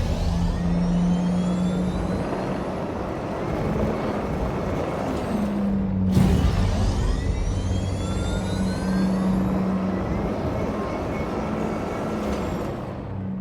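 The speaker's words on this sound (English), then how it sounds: "Let's go ahead and turn on those engines. Sounds like a regular ROC until you start driving." Greycat ROC-DS mining vehicle in Star Citizen driving with its engine running, a steady mid-pitched motor drone with whining tones that holds constant, briefly dipping and swelling once midway, with no talk over it.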